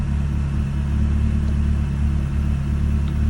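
A Ferrari 360 engine idles with a steady, loud, low rumble that holds even throughout, with no voices.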